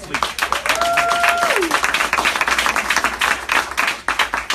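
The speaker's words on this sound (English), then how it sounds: "give Mitchell Chance a round of applause" A crowd claps steadily for speaker Mitchell Chance at a talk on being an African American man, the applause bright and sustained, with a brief whistle or cheer rising over it early on.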